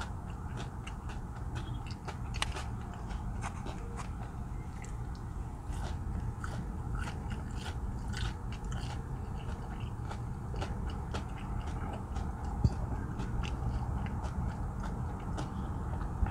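Steady, close-up crunching of Sonic Drive-In fast food being chewed, a rapid run of crisp bites and grinding over a low background hum.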